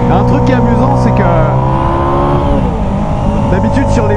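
A Ducati XDiavel Black Star motorcycle engine revs loudly and close as the throttle is opened, with a strong, rising engine tone, while someone talks over it.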